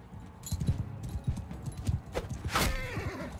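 A horse in the medieval combat game Mount & Blade II Bannerlord gallops with rapid, close hoofbeats, then lets out a loud, sharp whinny partway through as the battle continues.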